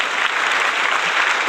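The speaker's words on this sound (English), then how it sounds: "I hope that you got a big round of applause from that" Dense, steady applause from a podcast show audience in Las Vegas, Nevada, filling the whole moment without a break, loud and close with no voices over it.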